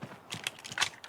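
A video game weapon being reloaded in a shotgun challenge, a quick run of faint mechanical clicks and ratcheting clacks over about a second.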